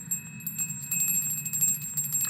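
A small hand bell rings in a rapid, continuous jingle with bright sustained ringing tones, fairly close and steady for a couple of seconds with no talking over it.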